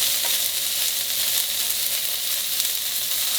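Food sautéing in a pan with fresh minced garlic and seasoning, giving a steady, loud, even sizzle that holds throughout with no voices.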